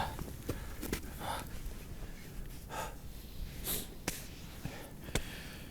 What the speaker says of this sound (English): my nose is just sniffling